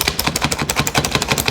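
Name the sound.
nut chopper chopping nuts for bourbon balls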